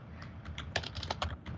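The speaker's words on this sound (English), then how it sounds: "So while he's typing that up" Quick, irregular key presses tap away on a computer keyboard during a community council meeting, a faint cluster of light clicks with a low room hum underneath.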